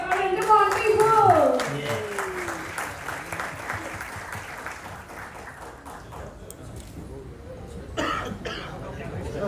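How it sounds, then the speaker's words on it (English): Audience applause at a Fujifilm Instax launch event with Kartik Aaryan, loud at first and then tapering into scattered clapping, with talk in the crowd. "Let us all branch together and make a cheer for Kartik Aryan"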